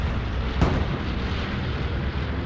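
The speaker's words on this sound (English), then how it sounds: "Here it comes, bombing run." Bombs from an air strike burst in the World War II shooter Hell Let Loose, a single sharp blast over a heavy rumbling low roar of distant explosions and battle noise, with no voices.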